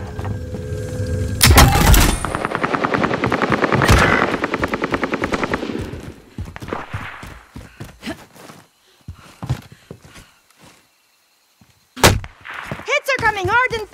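Video game combat with rapid machine gun bursts and loud gunshots, dense and close at first, then thinning to scattered shots, clanks and mechanical noises, followed by a final sharp burst and warbling electronic tones.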